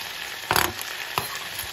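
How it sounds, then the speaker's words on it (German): Onions and ground beef sizzle in a hot pan, with two sharp bursts of frying hiss as food hits the oil, then a steady quieter crackle. "Unsere Zwiebeln sind jetzt fertig geschnitten und kommen jetzt in die Pfanne zum Hackfleisch."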